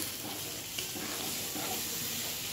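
A pan of shol fish sour curry with mustard paste bubbles steadily, giving an even, close hiss and soft simmering crackle with no talking.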